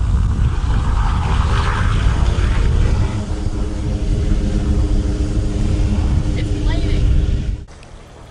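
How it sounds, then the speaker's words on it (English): A loud, steady roar of aircraft engines from planes landing and taking off right beside an anchorage in the Exumas fills the scene close by, then drops off abruptly near the end. "With the planes landing and taking off right next to us"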